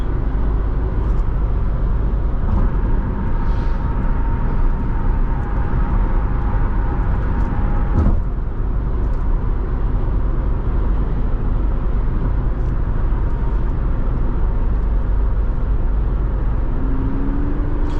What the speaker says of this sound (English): I love the exhaust sound here.